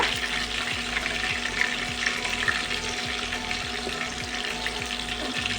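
Pakoras deep frying in hot oil give a steady, close sizzle and bubbling hiss throughout, with a faint low rhythmic ticking underneath and no voices.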